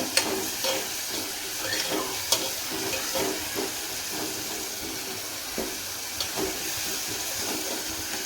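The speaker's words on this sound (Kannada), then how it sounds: "ಇದ್ರ ಜೊತೆ ಈಗ ಇದು ನೀಟಾಗಿ ಫ್ರೈ ಆಗಲಿ." Sliced vegetables sizzle steadily in a pan for moth bean palya, a dense hiss with occasional sharp crackles and spoon scrapes, close and continuous with no talking.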